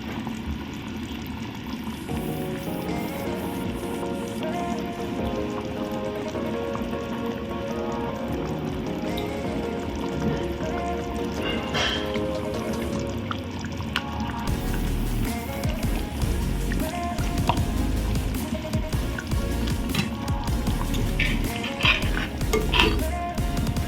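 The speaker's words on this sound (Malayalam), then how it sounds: "ഇപ്പോൾ തിള വന്നിട്ടുണ്ട് കേട്ടോ." A pot of mackerel curry bubbles steadily on the stove, while utensils clink and scrape against the metal pot and a dense, continuous sizzle grows louder and rougher partway through.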